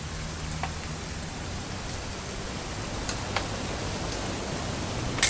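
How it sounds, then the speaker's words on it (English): Continuous rain pours in What Remains of Edith Finch, a dense, even hiss with occasional soft drop ticks, heard alone without voices. "It's gonna rain the whole weekend, isn't it?"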